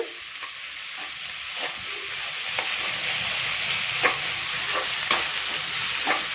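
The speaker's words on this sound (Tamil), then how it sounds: "வெங்காயம் நல்லா ப்ரௌன் ஆகிற வரைக்கும் இந்த நல்லா வதக்கிக்கலாம்" Onions, capsicum and beans sautéing in a pan give off a loud, constant sizzle, broken by repeated scraping strokes of stirring and no voices.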